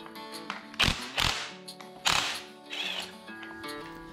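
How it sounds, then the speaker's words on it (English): A powered impact wrench loosens Loctite-secured hex nuts on a scooter's front motor wheel, firing several short, loud, close rattling bursts separated by brief pauses, with mechanical clicks between them. "a powered impact wrench makes quick work of this task"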